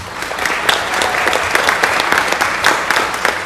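A city council meeting audience breaks into loud, continuous applause, many hands clapping in a dense, sustained wash that holds steady throughout.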